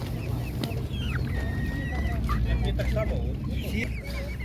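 Domestic fowl at a village market in Ukraine, including drakes, give scattered honks, clucks and squawks over a steady crowd murmur, with people talking nearby.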